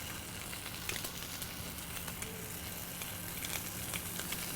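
Bacon and oil sizzle on a flat-top griddle while a smashburger cooks, giving a steady, dense crackling hiss with small pops throughout and no talking.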